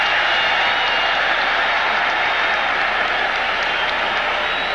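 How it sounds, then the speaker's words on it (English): A football stadium crowd roars and applauds steadily and loudly at an NFL game between the Houston Oilers and the Cincinnati Bengals, reacting to a referee's penalty signal, a dense sustained wall of cheering with no break. "Crowd reacting to the preliminary signal by the referee, Ben Dreith."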